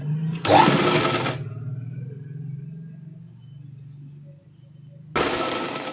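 A sewing machine top-stitching a dress runs in two short, loud bursts, with a quieter low hum between them.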